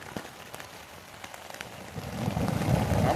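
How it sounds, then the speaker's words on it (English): Rain from a morning thunderstorm in southern Indiana patters and crackles softly at first, then swells into a louder, denser hiss of falling rain toward the end. "Yet we got thunder rolling through and rain"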